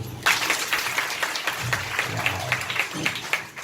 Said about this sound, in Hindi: इसके लिए ताली बजाओ